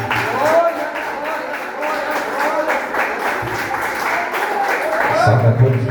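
A church congregation applauds steadily throughout, a continuous wash of clapping with voices mixed in, while a preacher talks over it.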